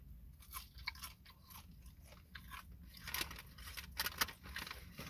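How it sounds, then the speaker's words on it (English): Close, crisp crunching of sugary, glazed Dunkin' Snackin' Bacon being chewed, with repeated irregular bites and brittle cracks running throughout. "meat that I'm tasting that's crunchy, or it's like some kind of sugary, glazy shell that's crunchy"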